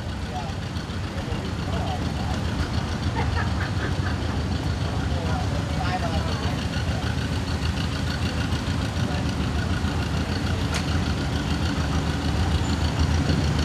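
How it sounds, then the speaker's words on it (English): A 1952 John Deere MT tractor rolls past in a county power show parade, its engine giving a steady, close, low rumble throughout while an announcer talks over it. "Next is Richard Piper on a 1952 John Deere MT. That's a sharp looking tractor there"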